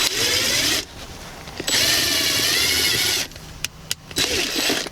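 A power drill drives a small stainless self-tapping screw during a Toyota Tacoma subwoofer install, whirring in three close bursts separated by short pauses, with small clicks between the bursts.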